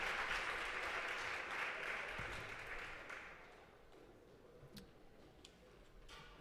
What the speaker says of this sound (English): So let's clap it up as they come, encourage them.